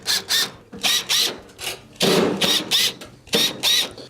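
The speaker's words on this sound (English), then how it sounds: "you must go around the perimeter and remove the Phillips screws that are holding it on." A power drill backs Phillips screws out of the top panel of a Whirlpool stove, whirring in short repeated bursts with brief pauses between, close and fairly loud, no talking.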